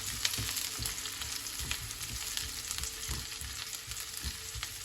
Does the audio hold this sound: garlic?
yes